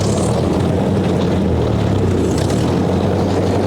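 A 1958 Ford Powermaster tractor engine runs on choke in the cold, with a steady, loud, rough low drone that holds throughout without a break.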